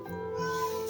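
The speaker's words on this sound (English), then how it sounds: "shush, no meowing, shush" An indoor house cat gives a single drawn-out meow, close and fairly clear, with no talking over it.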